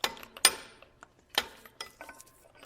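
A 3/4 socket ratchet turns out the coolant temperature sensor on a 1984 C4 Corvette, with a few sharp clicking bursts separated by short pauses, close and fairly loud.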